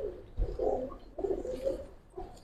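A Giribaz pigeon in a loft gives soft, low cooing in three short phrases, close by and with no other sound.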